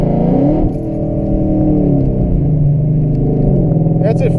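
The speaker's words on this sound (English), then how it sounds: "That's at 50 miles an hour, full throttle." A Ford Mustang with the 3.7 engine pulls at full throttle from about 50 mph, a loud, steady engine drone rising in pitch throughout with tire and road rumble beneath.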